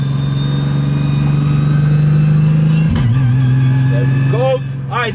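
2000 HP Nissan Patrol with a sequential gearbox in desert sand, a loud sustained engine drone rising in revs, then an abrupt gear shift and pitch drop, with someone speaking briefly over it.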